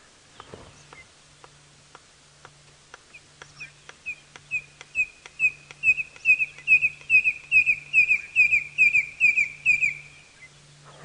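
A red-crested korhaan calling in the open at sunset, starting with a series of dry, evenly spaced clicks that speed up and then break into a run of loud, rising whistles, close and clear over faint background hum.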